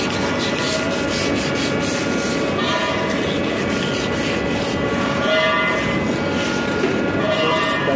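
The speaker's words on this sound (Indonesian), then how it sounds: "Terus bagian belakang kita amplas juga." Hand sanding of a surface before it is painted, heard as a steady, continuous abrasive rubbing scrape that runs unbroken at close range without pauses.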